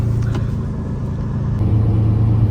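A Lamborghini Diablo engine runs with a steady, loud low rumble and a deep idle throb close by, no talking over it.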